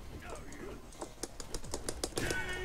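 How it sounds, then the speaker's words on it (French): A mechanical keyboard clicks in a quick irregular run of keystrokes, close and fairly quiet, with a voice talking over it. "Un clavier mécanique avec deux touches."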